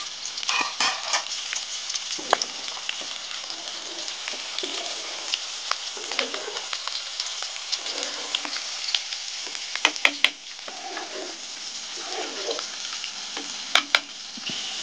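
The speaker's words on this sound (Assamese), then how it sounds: "পিঁয়াজখিনি মানে প্ৰথমতে ভাজি ল'ব" Sliced onions fry in hot mustard oil for a chicken and bamboo shoot dish, giving a continuous close, loud sizzle with occasional stirring clicks and scrapes, and no talk.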